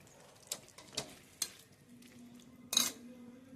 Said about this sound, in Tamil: எலுமிச்சம்பழம் சாறை ஊற்றிட்டு கிண்டிக்குவோம். கிண்டி வச்சுக்குவோம்.